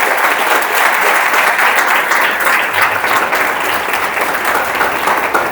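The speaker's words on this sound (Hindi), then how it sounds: "मैं चाहूंगा इनके लिए एक जोरदार ताली होना चाहिए।" A workshop audience breaks into loud, sustained applause, a dense wash of clapping that continues steadily throughout.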